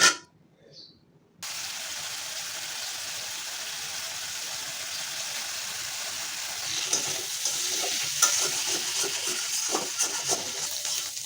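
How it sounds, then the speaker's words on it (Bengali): Shrimp frying in a pan of oil with turmeric, salt and chili, a steady close sizzle that starts abruptly after a short quiet moment and turns louder and more crackly near the end. "চিংড়ি মাছগুলো ভালো করে ভেজে নেব"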